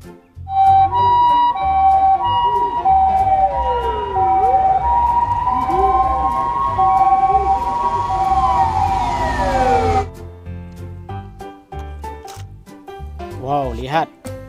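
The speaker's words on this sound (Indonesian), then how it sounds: "Wow, ini ada ambulan." A toy ambulance wails with a loud, close electronic siren that sweeps up and down in pitch. Voices speak over it, and the siren cuts off partway through, leaving short toy beeps and chirps afterward.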